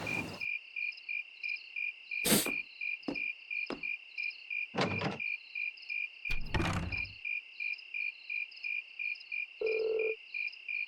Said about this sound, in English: who has crickets this loud in the city?